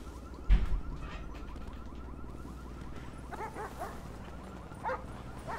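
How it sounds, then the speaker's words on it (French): Dogs bark, yip and whimper in a dogs-versus-players video game, with a loud bark near the start and then scattered excited yelps and whines over a steady background drone. "Ils doivent entendre les aboiements, la salle."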